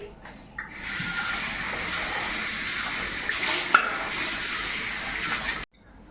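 A burnt kadai is rinsed under a running tap, a steady close hiss and splash of water flowing for several seconds before shutting off suddenly.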